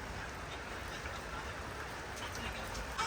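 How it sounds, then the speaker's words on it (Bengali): Steady rain falls outside in Lachen, a soft, even patter of drops that runs without a break for a few seconds at low level, fairly distant, with no clear speech. "বৃষ্টি তো কাল থেকে শুরু হয়েছে,"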